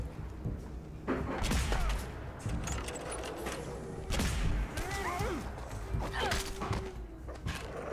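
Gunfire and heavy thumps of combat in Fallout 4 play over a loud, busy game mix, with bursts of shots and impacts scattered through the clip.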